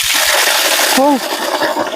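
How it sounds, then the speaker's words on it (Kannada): Water gushes out of a newly drilled borewell at a plot site, a loud broadband splashing rush that eases after about a second as a voice speaks over it. "ಎಷ್ಟು ದಪ್ಪ ನೀರ್ ಬಿದ್ದಿದೆ ನೋಡಿ"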